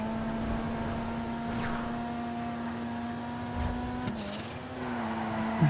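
A steady car engine hum in GTA Online drones at a constant pitch, dipping briefly before settling again, smooth and continuous with no voices.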